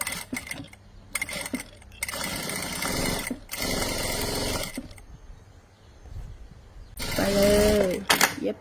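Sewing machine stitching a bag flap in bursts, a close mechanical whirring rattle that starts and stops several times with a pause to turn the corner, with a person talking in between.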